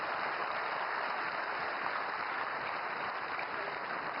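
Audience applause in a hall at the ESTIC 2025 science and technology conclave, a steady, even wash of many hands clapping, fairly quiet and distant, with no voices over it.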